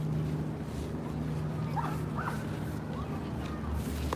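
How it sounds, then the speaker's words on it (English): A few faint, distant dog barks and yips rise over a steady outdoor hum of wind and traffic in Manhattan, New York City, across from Roosevelt Island. "There's also a lot of dogs too."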